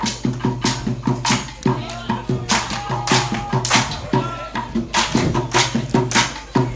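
Rhythmic hand clapping for a Cherubim Church song, crisp regular claps in a steady repeating pattern over a low sung or hummed line, with brief breaks in the beat.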